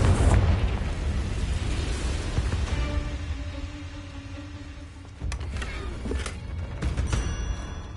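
A Confringo fire spell bursts in Hogwarts Legacy, a loud rumbling blast at the start that decays into a crackling tail, with a faint tone and a few later pops.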